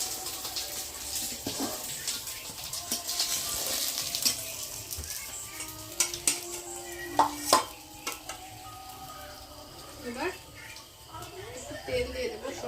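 Fried koi fish lifted piece by piece out of hot sizzling mustard oil on a clay-pipe stove, a steady crackling fry broken by a few sharp metal clinks of a spatula against the pan, with faint voices in the background.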